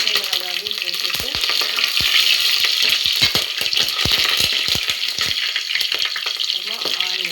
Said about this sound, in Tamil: போட்டு இந்த வெட்டி வச்ச பச்சை மிளகாயும் போட்டுட்டு